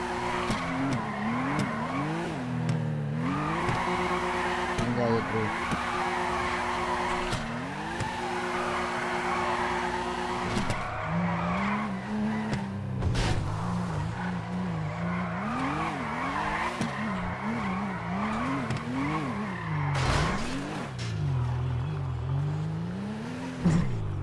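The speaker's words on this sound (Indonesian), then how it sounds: "Sangat drift nih. Anjay, drift." A car drifting in GTA 5 with a steady engine drone and long, wavering tire squeals rising and falling across the whole stretch, loud and continuous.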